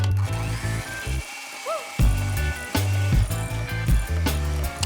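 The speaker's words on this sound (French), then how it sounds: "mélanger le sucre, le beurre de cacahuète et la vanille. Mixer pendant au moins 1 minute." An electric mixer whirs through sugar, peanut butter and vanilla for a vegan cookie dough, its motor running in close, loud bursts with brief pauses between them.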